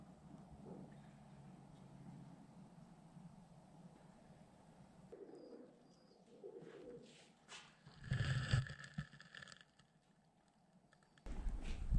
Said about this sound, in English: Pigeons, man. Yes, they're still here.